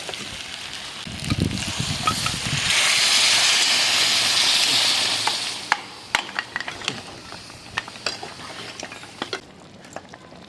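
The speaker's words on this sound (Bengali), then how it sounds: "এবারে জল ঢেলে দিই, চলো।" Water poured into a pan of browned, well-fried meat sets off a loud burst of hissing and sizzling that swells and fades, followed by scattered clinks and scrapes of stirring, with no voices.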